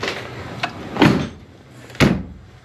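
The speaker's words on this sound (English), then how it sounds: "But shut this door first." A camper door is pushed shut with two solid thuds about a second apart, the second a firm close, nearby and with no talking.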